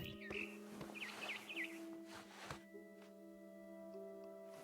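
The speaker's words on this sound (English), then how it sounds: "Then I heard chirping outside my window. It was a barn swallow going back to her nest." A barn swallow chirps quietly in the game What Remains of Edith Finch, with a quick run of high twittering notes over a low ambient hum.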